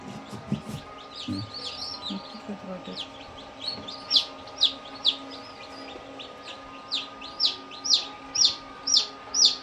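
Newly hatched chicks at a poultry farm peep in a steady run of short, high chirps that grow louder and more regular toward the end, over a low background hum.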